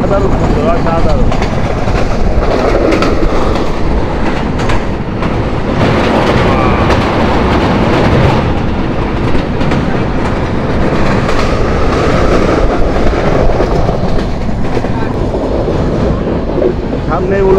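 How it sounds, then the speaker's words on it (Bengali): Train rolling on rails as it slows approaching Ullapara station in Bangladesh, a loud close clickety-clack of wheels over rail joints with carriage rumble, and voices talking underneath. "ট্রেন স্লো হয়ে গেছে"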